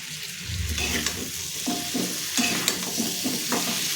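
Pieces of red pumpkin stirred and sautéed in hot oil with coriander, cumin powder and sugar in a pan: a steady close sizzle broken by several spoon scrapes and clatters against the pan.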